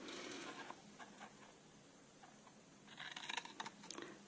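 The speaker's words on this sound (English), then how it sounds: "so I'm now going to cut there." Scissors cutting card for a handmade gift box, faint close-up snips and paper rustle in a quiet room, a few scattered cuts then a quicker run of crisp snips near the end.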